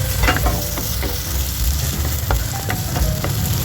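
Garlic and onion sautéing in hot oil in a frying pan, a steady dense sizzle throughout with occasional sharp clicks of a spatula, close and loud with no talking.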